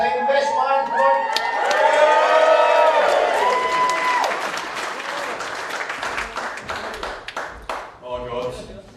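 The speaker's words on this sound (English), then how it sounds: "Right, come on then, biggest cheer to him up this time." At a wedding, guests cheer and whoop for the best man over sustained applause, the voices loudest early on, then the clapping continues and gradually thins out.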